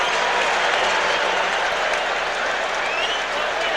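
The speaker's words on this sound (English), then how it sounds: "Boy, this crowd is unbelievable." A dense, roaring stadium crowd cheers and applauds without a break at an NFL AFC Wild Card playoff game between Denver and Indianapolis, loud and sustained throughout.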